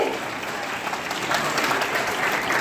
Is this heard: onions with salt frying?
no